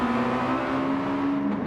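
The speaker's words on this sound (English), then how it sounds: "Katusa onto the throttle, almost losing control of the back of the car." A race car from a WMCC round at Brands Hatch powers up the front straight out of the final corner, its engine droning loud and steady with a rising harmonic whine throughout.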